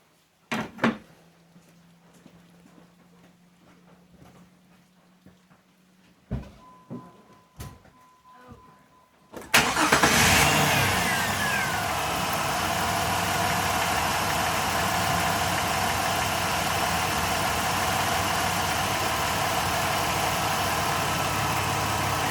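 A 2006 Jeep Liberty starting up: a few quiet clicks and door or hood knocks, then the engine cranks and catches, settling into a loud, steady idle that runs to the end.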